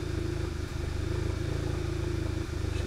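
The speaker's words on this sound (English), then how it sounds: "Bit of a rough idle, boys." A Golf 7.5 R engine on an E85 flex-fuel tune idles roughly nearby, its steady low rumble broken by uneven stumbles and dips about once or twice, with no talking over it.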